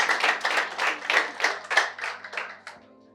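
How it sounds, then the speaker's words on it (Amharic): A small group claps in uneven rhythmic bursts at a coffee-talk gathering in an Addis Ababa head office. The distinct, fairly close claps fade out near the end, leaving a low hum. "እስቲ አጨብጭቡልኝ፣"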